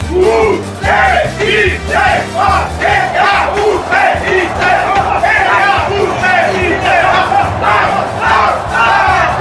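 Náutico football supporters singing together on a bus heading to the stadium, loud and close, rhythmic chant phrases with shouted voices filling the enclosed space, steady throughout.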